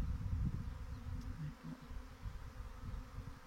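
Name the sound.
honeybee swarm flying around hive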